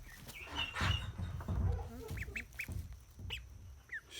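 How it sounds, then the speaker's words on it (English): Ducks quack in several short, nasal bursts against a muffled, rustling background, fairly faint and intermittent. "Scaring the ducks."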